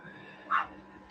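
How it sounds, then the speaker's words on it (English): A dog gives a single brief yip-like bark indoors against a faint room hum, short and moderately close. "I can't have her barking at Neil and Mary like that"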